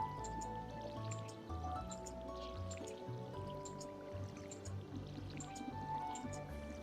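Watering can sprinkling water over freshly planted crops in the Stardew Valley farming game, a soft steady trickle and drip under light game music with chiming tones.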